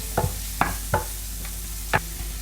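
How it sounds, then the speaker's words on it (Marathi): A spice, turmeric and tomato mixture frying in a pan for crab curry makes a low steady sizzle, broken by a few short scraping stirs. "हे मिश्रण चांगलं फ्राय होऊ दे."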